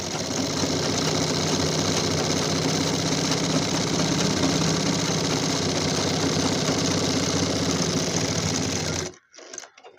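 A sewing machine stitches cloth in a steady, loud, continuous mechanical whir that runs unbroken for about nine seconds, then stops abruptly, leaving near silence with a few faint clicks.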